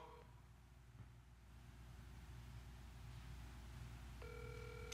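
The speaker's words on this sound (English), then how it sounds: "Y'all can hear the phone?" Telephone ringing, a faint electronic tone that sounds briefly near the start and returns near the end over low background rumble.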